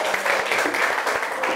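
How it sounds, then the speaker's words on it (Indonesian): A short burst of applause from a classroom group, brisk scattered clapping that fills the moment at moderate volume. "tepuk tangan untuk kita semua"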